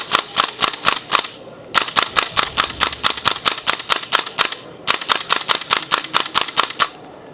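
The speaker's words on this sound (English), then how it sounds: "We're using blank ammunition in here." Blank ammunition fired from a weapon in an indoor training simulator range, three rapid strings of sharp loud shots, about eight to ten per burst, with brief gaps between bursts.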